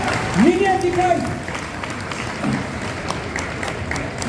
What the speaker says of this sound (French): Encore plus d'applaudissements pour Liliane